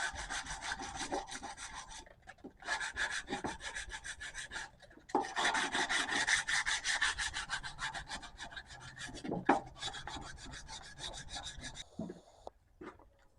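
Custom knife handle scales are rubbed by hand with 180-grit sandpaper, giving raspy back-and-forth scratching strokes in long runs broken by brief pauses, with no speech.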